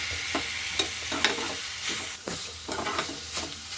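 Metal spoon scraping and stirring coriander and mint into veg kuska in a pan over a steady sizzle, with repeated short scrapes at an irregular rhythm, close up and no talking.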